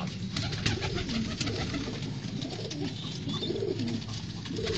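Teddy pigeons in a loft coo in low, soft, continuous rolling murmurs, many birds overlapping into a steady burbling hum close by.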